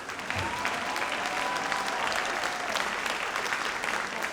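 Audience at a nursing candle lighting ceremony applauding first responders, with sustained dense clapping from a large indoor crowd throughout.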